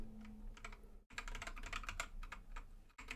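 Rapid keystrokes clatter on a computer keyboard at close range, a dense run of clicks broken by two brief pauses, with no voice.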